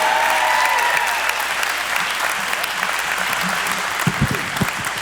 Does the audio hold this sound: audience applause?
yes